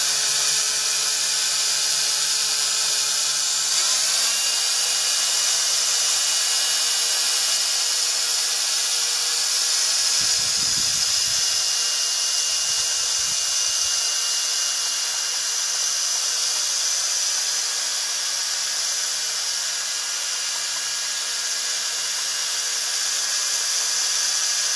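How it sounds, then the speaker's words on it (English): A spin-it-off tool pulls magnetics out of black sand during gold prospecting, giving a loud, continuous high-pitched mechanical whine that runs through the whole stretch with little change. "So now I'm going to go ahead and use the spin it off tool and get the magnetics out of here"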